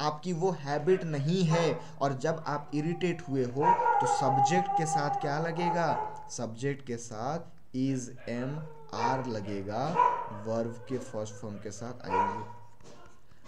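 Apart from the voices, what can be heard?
dog barking outside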